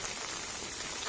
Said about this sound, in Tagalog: Hanggang ngayon, umuulan pa din.